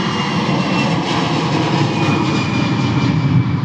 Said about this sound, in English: enjoy some awesome sounds of our Boeing 737s and A320s departing here